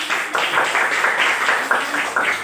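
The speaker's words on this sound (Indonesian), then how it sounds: "Nah selanjutnya tepuk tangan dong untuk teman." Children in a school lesson clap their hands together in a rapid, rhythmic burst of repeated claps, loud and close.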